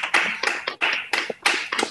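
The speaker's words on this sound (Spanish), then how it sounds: "quiero que les demos un aplauso" Scattered applause from online meeting participants through open microphones, several short irregular bursts of clapping with gaps between them.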